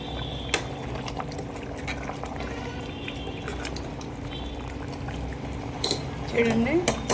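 Raw jackfruit curry boiling on high flame in a pot, a steady close bubbling and simmering with a few clinks, a voice briefly heard toward the end.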